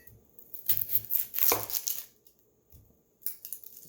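A knife chops through an onion on a cutting board in a home kitchen, a few close, crisp cuts bunched together, then a pause and a couple more, with no talking.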